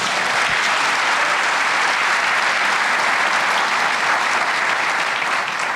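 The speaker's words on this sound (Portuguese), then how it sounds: "Então aplauda Jesus bem forte." A church congregation applauds loudly and continuously, a dense, even wash of many hands clapping at once, close and steady for the whole stretch.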